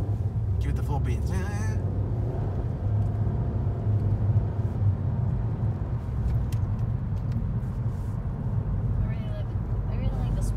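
A 2015 Volkswagen Jetta TSI SEL engine in sport mode, a steady loud low rumble as the car pulls from inside the cabin, with occupants talking over it.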